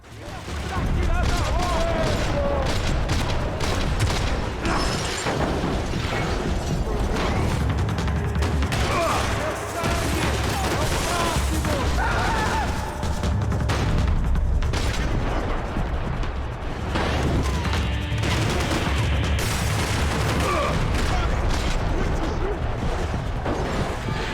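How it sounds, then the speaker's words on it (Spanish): Rapid rifle gunfire and explosions crack through a Max Payne 3 shootout in the São Paulo favelas, dense continuous bursts with mechanical clatter, loud and sustained for the whole stretch. "Es que no es muy bueno este rifle, como que a veces pego varios balazos y no mueren"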